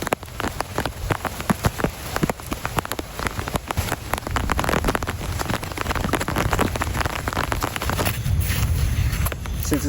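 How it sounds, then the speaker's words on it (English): Heavy rain pours down outdoors, dense crackling drops striking surfaces close by, loud and continuous with sharp spatters throughout. "Since it's raining so much"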